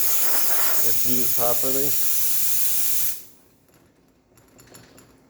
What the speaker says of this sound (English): Test the steam. Now we have a nice strong steam.